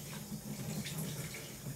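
Tap water runs steadily into a bath while a puppy named Milo is washed, a continuous low splashing hiss with no break across the short stretch.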